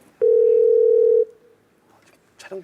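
A telephone ringback tone during a call gives one steady tone of about a second, loud and clear, then fades to near silence with faint rustling after it.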